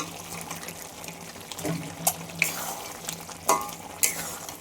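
Chicken pieces go into hot spiced oil with whisked yogurt in a pan, giving a steady low sizzle with a few louder splashy stirring bursts and clatters, close and without talk.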